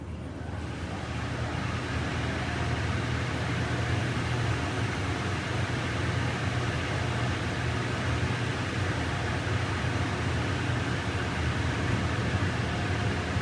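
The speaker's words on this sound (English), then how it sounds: "let's pull up the window to hear the dryer start up" Car wash air dryers at a Laserwash 360+ roar on continuously, a loud, steady rush of blowing air, a broad whooshing drone from powerful blowers close by.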